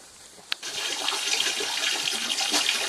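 Water runs from a tap to fill a container for soaking oyster mushroom blocks. A short click comes first, then a steady hissing gush of running water continues, close and alone.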